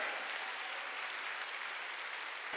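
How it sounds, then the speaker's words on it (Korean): Steady applause from a large church congregation at a Sunday service fills the whole stretch, even and sustained without pause. "빨리 박수 치라고요."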